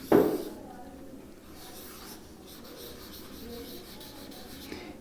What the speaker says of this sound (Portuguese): Vamos escrever aqui.